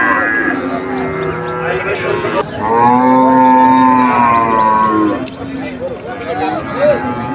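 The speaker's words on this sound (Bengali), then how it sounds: "এখানে সুন্দর একটি গাভী দেখা যাচ্ছে" A cow lets out a long, loud moo close by at a cattle market in Saturia, Manikganj, amid a busy crowd of people talking around it.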